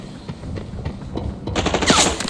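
A boss fires an automatic weapon in the shooter game Arena Breakout: rapid bursts of gunfire crackle in quick succession, swelling into a louder, denser volley at the end.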